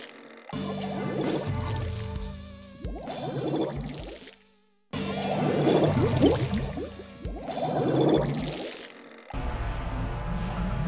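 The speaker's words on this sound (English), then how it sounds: "the Inklings shaking off the ink, and you look at the different fidelity when it comes to the ink splashes" Inklings in the Splatoon 2 video game shake off ink: wet, squishy splashes and sloshing liquid in several bursts, separated by brief pauses, fairly close and clear.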